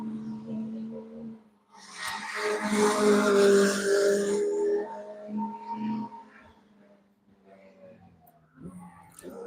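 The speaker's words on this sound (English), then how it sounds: "Another car pushing on and navigating their way through." A GB3 single-seater race car roars past at pre-season testing with a loud engine swell that rises and fades, and a commentator talks over it.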